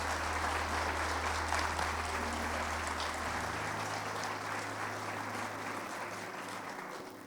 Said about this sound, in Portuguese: Então aplauda ao Senhor.